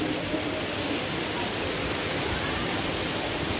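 Waterfall beside a restaurant near Bindu Dam, a steady, dense roar of falling water filling the whole clip without a break.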